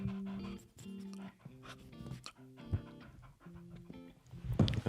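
A dog pants close by in quick, rhythmic breathy bursts, with a few soft whimpers and small movement noises, all fairly quiet.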